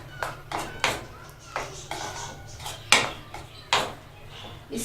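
Tutti frutti cake batter stirred in a bowl with a utensil, giving a series of about six sharp clinks and scrapes against the bowl at an irregular rhythm, close and fairly clear, over a low steady hum.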